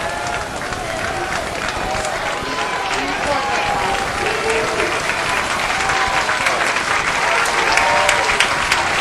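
Citadel baseball crowd at Riley Park cheering and applauding steadily, many fans on their feet during a tense seventh-inning jam in a SoCon game; a dense, continuous roar of clapping and shouting throughout.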